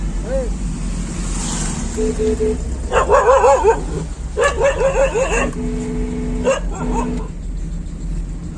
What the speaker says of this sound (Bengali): কুকুরে তো দাবড় চাইলো